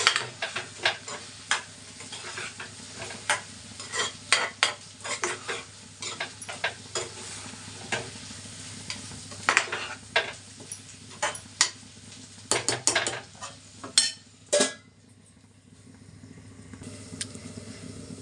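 A spatula stirs okra (bhindi) fry in a pan, making a long run of scraping and clattering strokes against the metal over a faint sizzle, with brief pauses between bursts.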